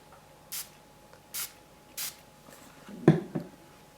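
A spray bottle mists water onto a Brusho painting on card, with three short even hissing sprays followed by a couple of quieter, scrappier bursts, close and clear against a quiet room.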